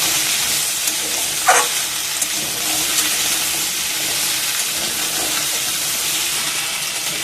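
Taro pieces stirred while frying in hot oil give a steady, loud bed of hiss and sizzle, with a few brief clinks or scrapes from the stirring standing out early on.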